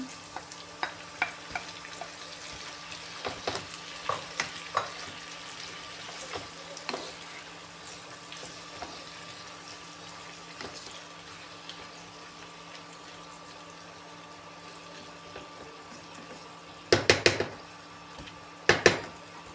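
Tomatoes going into a pan of frying chicken and being stirred: a soft, steady sizzle with scattered spoon clicks and scrapes, closing with a couple of sharper clattering knocks.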